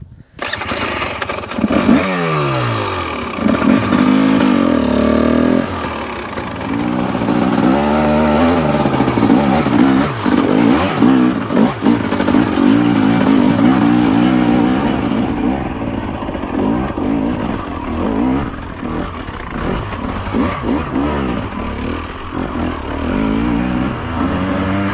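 Husqvarna TE250 dirt bike ridden on trails at Vedder Mountain, British Columbia, its engine revving loudly and steadily up and down through the whole stretch, close to the rider, with no talk.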